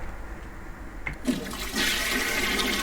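A toilet flushes in The Backrooms video game: a short click, then a surge of rushing water that builds and keeps gushing steadily to the end, close and fairly loud with no speech.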